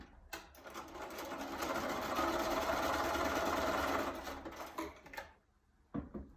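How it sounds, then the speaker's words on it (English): A sewing machine runs in one steady, loud burst of stitching as small quilt block pieces are joined, then stops and leaves a short clatter at the end. "go ahead and put them together and go ahead and sew them"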